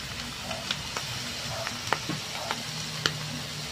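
Beaten egg being stirred into tuna sisig seasoned with pepper and soy sauce in a sizzling pan, with steady frying hiss and a few sharp utensil scrapes and taps against the pan.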